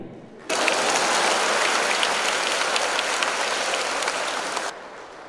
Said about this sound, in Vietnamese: Xong vỗ tay đi.